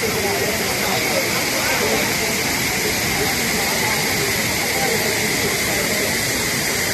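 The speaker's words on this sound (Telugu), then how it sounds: "అద్భుతమైన జలపాతం చాలా ఎక్కువ ప్రెజర్ ఉంటుంది ఎందుకంటే దరిదాపు నూట యాభై అడగల నుంచి పైనుంచి నీళ్ళు వస్తుంది" A powerful waterfall drops from about 150 feet at high pressure, producing a constant loud roaring hiss of crashing water that holds steady throughout.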